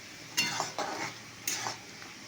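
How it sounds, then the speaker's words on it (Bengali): A spoon scrapes and stirs through a pot of cooking food with water just added, making a few soft, close strokes spaced about a second apart over a faint sizzle. "এবার নাড়াচাড়া করবো"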